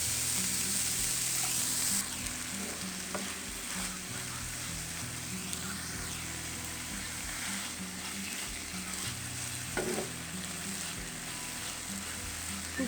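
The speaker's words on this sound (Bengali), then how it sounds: "সবগুলো একত্রে সুন্দর করে ভাজতে হবে।" Vegetables and chicken fry together in a pan with a soft, continuous sizzle and occasional stirring taps, fairly quiet and close, no speech.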